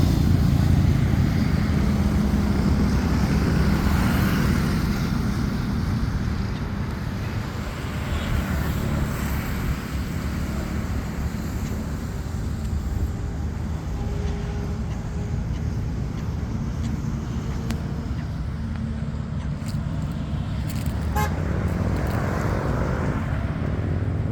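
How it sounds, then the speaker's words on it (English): Steady broadband roar of roadside traffic beside a highway where a Yamaha Aerox scooter sits parked, with vehicles rumbling continuously and loudly throughout, swelling slightly early on, with no voices. "you might hear the roadside vehicle roaring sounds"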